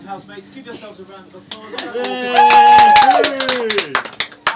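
Housemates on Big Brother break into clapping, sharp claps building from scattered to a brisk patter, heard over and after loud voices and a sung or shouted cheer.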